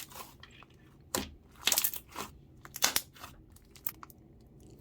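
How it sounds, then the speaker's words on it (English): Glossy slime with embedded glass pieces being squeezed and pressed, giving a few loud crunchy pops from trapped bubbles at irregular intervals over quiet handling noise, close up. "they started trapping bubbles on the inside of the slime, so it made the bubble pops even better"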